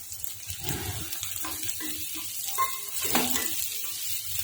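Potatoes tipped into a pan of frying onions and green chillies for bhindi aloo sabji, giving a close, steady sizzle with scraping and stirring clatter, no voices.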